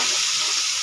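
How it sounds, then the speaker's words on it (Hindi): Spices fry in hot oil with a dense, steady hiss and crackle, close and continuous. "1-2 मिनट में मैं इसको भूनूंगी"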